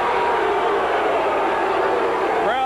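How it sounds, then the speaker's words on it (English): Basketball arena crowd reacting unhappily to a foul call, a loud dense wash of disapproving voices and murmuring that holds steady throughout. "Crowd does not like it."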